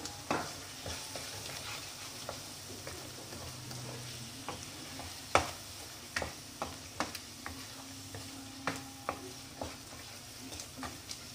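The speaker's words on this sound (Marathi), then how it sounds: "5 मिनिटं छान त्यांना तेलामध्ये होऊ द्यायचं" Chicken masala cooking in oil, a faint low sizzle under repeated sharp spoon scrapes and taps against the pan, irregular and close, without speech.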